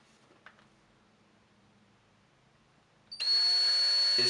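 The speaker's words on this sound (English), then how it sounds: "So what we're going to do now is drill us a pilot hole" A power drill starts up after a quiet stretch and whines steadily at high speed for about a second, close and loud, boring a pilot hole in plastic on a model box car.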